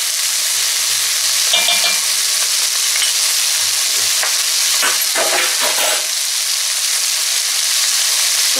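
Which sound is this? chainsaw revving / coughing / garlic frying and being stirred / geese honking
garlic frying and being stirred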